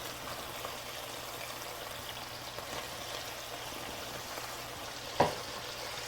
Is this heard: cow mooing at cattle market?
no